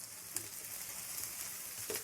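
Ingredients for a homemade chicken pasta fry in a pan with a soft, steady sizzle, quiet and continuous, broken by a couple of light stirring scrapes.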